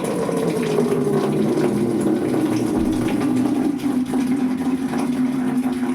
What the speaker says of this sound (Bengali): চলো এবার চাদরগুলো এক এক করে ভিজাই